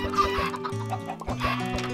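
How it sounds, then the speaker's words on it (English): Chickens cluck repeatedly in the Minecraft video game, a busy run of short, close clucks over a steady humming tone, with no talk. "there's a lot of chickens"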